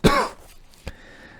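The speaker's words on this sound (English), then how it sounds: "I just have a lingering cough that gets into my throat" A single harsh cough from a person with a lingering chest cold, followed a moment later by a short, fainter throat-clearing sound, close to the microphone.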